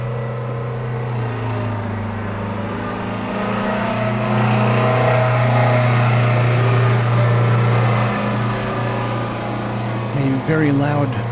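A very loud truck passes by below, its engine rumbling steadily and swelling to a peak midway before easing off, with a person talking over it.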